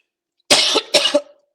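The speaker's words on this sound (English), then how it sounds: "Sorry for my cough." A man gives two quick, harsh coughs in close succession, loud and near in an otherwise silent moment.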